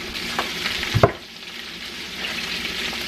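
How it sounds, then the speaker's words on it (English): About two cloves of garlic hit hot olive oil with sautéed vegetables, giving a soft, steady frying sizzle with a brief clatter of stirring near the start, fairly quiet. "go ahead and throw that beautiful, beautiful, delicious garlic in there"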